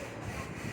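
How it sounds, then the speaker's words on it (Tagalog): Construction work at the house next door makes a steady rasping, sawing-like noise that carries as continuous background din in a residence. "pagpasensyahan niyo po yung ingay ng ating background dahil meron po tayong construction sa ating katabi"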